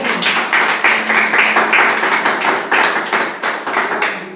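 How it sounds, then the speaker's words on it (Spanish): A church congregation applauding in praise, with steady, rapid hand clapping spread across many people and carrying evenly from start to finish without any talk over it. "Vamos, un aplauso a Dios."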